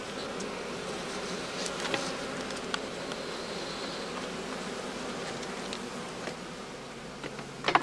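Honey bees buzz steadily around straw skeps at a skep apiary during the heather bloom, a dense, even hum with scattered closer wingbeats passing by, no voices.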